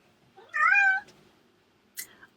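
A domestic cat gives one clear, drawn-out meow close by, followed after a pause by a shorter, higher chirp-like mew, in an otherwise quiet room.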